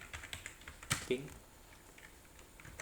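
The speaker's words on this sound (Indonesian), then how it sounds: "Setelah itu kita ketikkan ping" Sparse, quiet keystrokes on a computer keyboard as the ping command is typed into a terminal, a few soft clicks close by with faint background.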